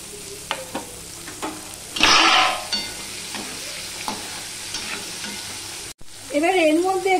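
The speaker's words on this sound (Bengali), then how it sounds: "প্রথমে আমি আলুগুলো ভেজে নেব, তার জন্য আমি আলুগুলো দিয়ে দিচ্ছি" Potatoes drop into hot oil in a kadai and sizzle loudly, with a bright burst of frying and stirring scrapes, then a steady crackle continues up close.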